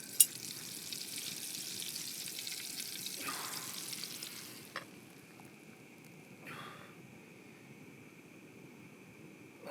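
Butter frying in a slanted pan outdoors in the Norwegian mountains, a faint steady hiss that drops lower partway through, with a couple of soft knocks.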